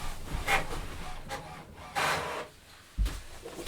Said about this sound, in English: And then it should print any second.